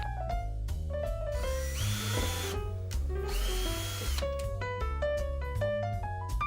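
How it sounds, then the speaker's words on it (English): A power drill whirs steadily up close, drilling drainage holes in a deck rail planter box, its pitch rising and falling as the bit bites in and eases off in repeated bursts. "I'm going to need to drill them before I do my planting"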